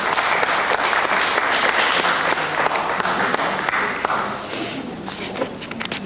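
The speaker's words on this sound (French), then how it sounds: "ça mériterait peut-être un petit applaudissement quand même" Studio audience applauding on a French TV word game show, a dense, steady wash of clapping that fills the clip and tapers slightly near the end, with no talk over it.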